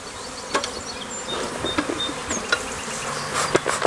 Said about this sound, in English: I heard a bunch of bees buzzing when I was inspecting the frames